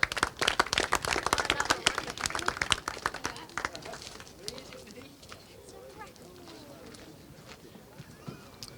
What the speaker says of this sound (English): Huge round of applause, please, for Fusion Motorsports 45, Noah Wolf.